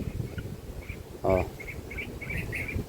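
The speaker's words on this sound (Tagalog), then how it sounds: "Naririnig niya kasi yung mga ibon" Faint, quick bird chirps repeat every second or so against quiet outdoor background noise, with one brief louder rustle in between.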